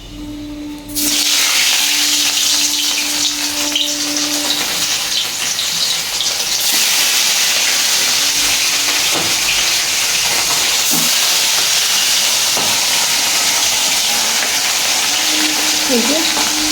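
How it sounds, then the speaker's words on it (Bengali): Fish fries in a hot pan, a loud, dense sizzle bursting in after a second of quiet and hissing steadily to the end, with faint hums and clinks beneath. "এই যে দেখো মাছটা ভাজা হচ্ছে"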